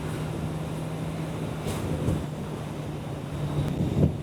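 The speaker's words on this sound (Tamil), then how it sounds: "காத்து பயங்கரமா அடிக்குது." Strong wind roars steadily over a Kawasaki Z900 motorcycle at speed on a hot highway ride, a broad continuous rush with occasional gusty swells and a low engine hum beneath, no voices.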